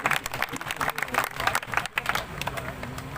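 Audience applause at a Hindi poetry gathering in Nohar, a dense patter of many hands clapping close by with a murmur of voices mixed in, lasting a few seconds.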